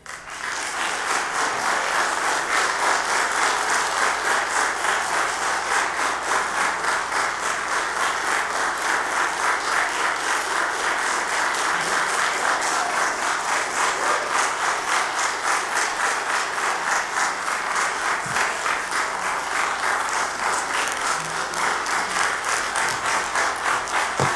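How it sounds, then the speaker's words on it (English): An audience at a borough council meeting in Madison, New Jersey applauds steadily for over twenty seconds, a dense, even wash of clapping with no talk over it. "I appreciate the applause."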